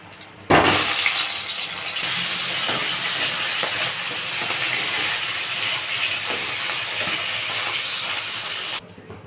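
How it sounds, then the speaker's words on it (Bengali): A hilsa fish head fries in hot oil in a kadai, producing a loud, continuous close-up sizzle that begins abruptly and holds steady for about eight seconds before cutting off. "তো মাথাটাকে আমি ভালো করে একটু ভেজে নেব।"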